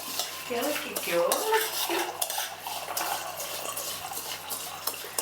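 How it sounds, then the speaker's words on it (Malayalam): A spoon clinks and scrapes around a metal vessel while stirring a semiya (vermicelli) mixture for semiya ada, a busy, close run of metallic rattles and swishes that eases off toward the end. "ഇളക്കാൻ ഞാനാ നല്ലത് നന്നായിട്ട് ഇളക്കും"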